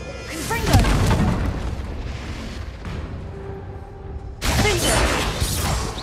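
Confringo blasting spell explosions in Hogwarts Legacy, heavy booming blasts with crackling, shattering debris, one big burst early and another loud surge near the end over dense game sound, with a voice calling out.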